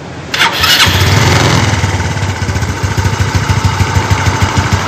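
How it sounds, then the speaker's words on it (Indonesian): A vehicle engine cranks and fires up during radiator flushing, settling into a steady, loud, close idle with rhythmic pulsing and no talk. "Kita sambil nyalakan mesin."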